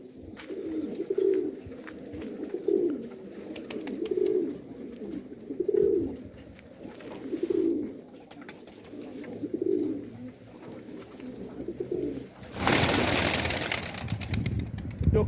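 Pigeons, including Macar and yellow Güllü breeds, coo in a slow repeating rhythm of soft, low calls nearby, followed by a sudden burst of flapping wings near the end.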